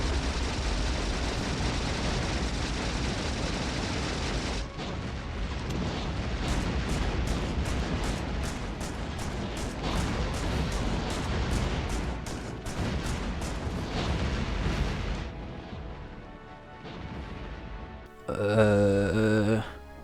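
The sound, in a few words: gunfire against a demolisher worm in Factorio video game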